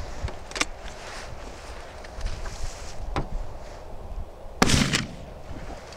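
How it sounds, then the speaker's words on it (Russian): A TOZ-34 over-and-under shotgun fires a single buckshot load from its upper barrel outdoors, one sharp loud report near the end with a brief tail, after a couple of fainter bangs earlier amid background noise. "С верхнего ствола стрелял."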